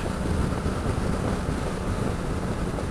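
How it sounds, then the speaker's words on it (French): Loud, constant wind roar buffets a motorcycle helmet while riding a 2016 Honda Africa Twin, a dense rumbling rush with no pauses. "le vent ici au-dessus tape sur mon casque"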